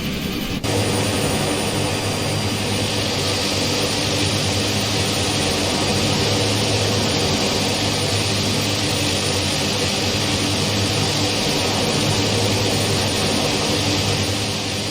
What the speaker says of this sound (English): And let's listen to the engine.